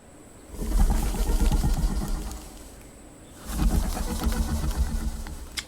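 Two stretches of soft video game bird cooing and chirping over a low rumbling background, with a brief quieter gap between them.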